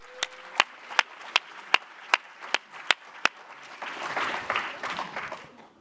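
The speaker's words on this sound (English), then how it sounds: "Let's give them all a huge round of applause." A round of applause from an audience at an evening panel event, opening with a few sharp, evenly spaced single claps that swell into a fuller burst of crowd clapping near the end.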